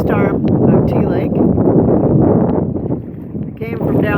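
Strong wind buffets the microphone on a lake during a solo canoe trip, a loud continuous roar with rustling gusts, while someone talks over it.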